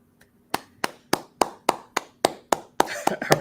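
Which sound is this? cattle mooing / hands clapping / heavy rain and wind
hands clapping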